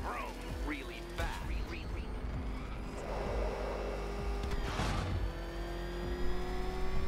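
Batmobile in Batman: Arkham Knight, engine revving and driving with rising and falling whines and tire noise, moderately quiet beneath game dialogue and voices.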